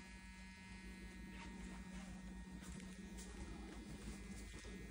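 An electric toothbrush buzzes steadily and continuously at close range, a constant motorized hum with no talk over it.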